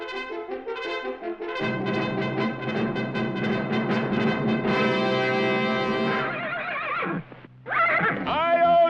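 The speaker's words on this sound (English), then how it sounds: "A fiery horse with the speed of light, a cloud of dust, and a hearty Hi-Yo Silver" A fiery horse's hearty whinny rings out loud amid a rousing orchestral fanfare, the neigh rising and falling in drawn-out waves near the end with no distinct hoofbeats standing apart.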